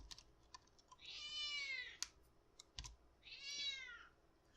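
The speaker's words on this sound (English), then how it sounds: "If you don't hear the kitty, that is Misty saying hi." A cat meows twice, close and fairly loud, between scattered clicks of keyboard typing.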